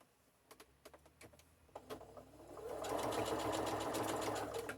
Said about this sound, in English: Okay, so I'm just going to sew a seam across here.